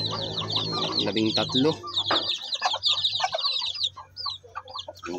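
A Shamo Aseel mother hen clucks and calls to her two-week-old native chicks, with low clucks early on and a steady stream of high chick peeping, while someone talks briefly over the start.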